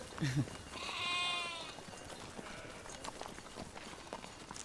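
Goats bleat in a scattered herd outdoors, a few wavering calls early on followed by light hoof clatter and rustling, with voices heard talking.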